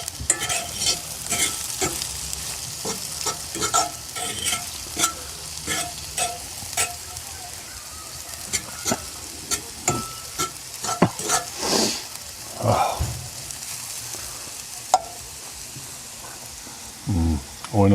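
Food frying in a pan at a campsite at Eisenhower State Park, with steady sizzling under repeated scraping stirs of a utensil against the pan, close and continuous, no talk.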